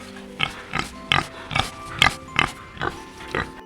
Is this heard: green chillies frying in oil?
no